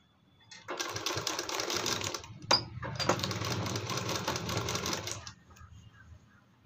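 A sewing machine runs in two steady bursts of rapid mechanical stitching, sewing a decorative hem design on a kurti, with a sharp click between runs and no voices.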